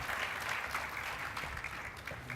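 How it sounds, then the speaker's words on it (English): An audience at an interview event applauds to welcome a guest, a dense, even wash of many hands clapping, fairly soft and distant and continuous throughout. "Let's give Mr. Aho a big round of applause."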